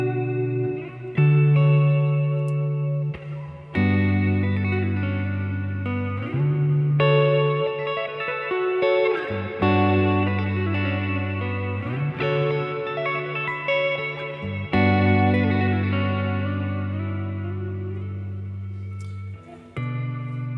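Electric guitar played through an EarthQuaker Devices reverb pedal, sustained chords blooming into a huge, lush wash of reverb with shimmering, modulated tails that swell and overlap across the passage, loud and continuous with no talking.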